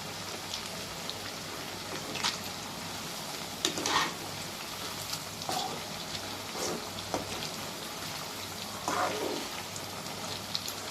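Chicken 65 frying in hot oil with curry leaves, a steady dense sizzle running throughout with a few louder crackling bursts, close and fairly quiet, with no talking.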